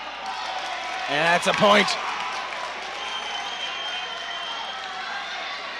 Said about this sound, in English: there's the crowd from Lawrence cheering